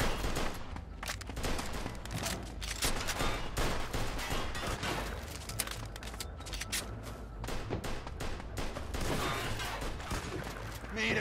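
Gunfire in Mafia II Definitive Edition rattles in dense, continuous bursts of sharp cracks and thuds for the whole stretch, loud and close, with voices in the mix.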